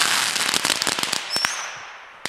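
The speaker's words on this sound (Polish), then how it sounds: "Ten karabinek, co robił Andrzej, wrzuca do torebki pełnej fajerwerków" Fireworks set off inside a bag full of firecrackers crackle in a dense, rapid burst of loud pops that thin out into a few scattered bangs and a hissing whistle, heard outdoors at close range.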